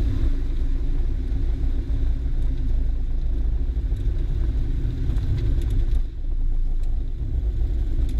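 A light aircraft rolls and brakes along a runway after landing, a loud continuous low rumble and engine drone filling the cabin, with no talking.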